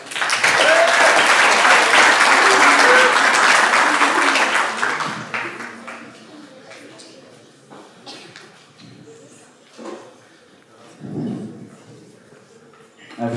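Loud applause from an eloquence-contest audience for a debater, a dense sustained burst of clapping that fades after about five seconds into quieter room noise, shuffling and scattered small sounds.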